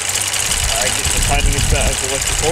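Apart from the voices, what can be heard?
Jaguar XK engine idling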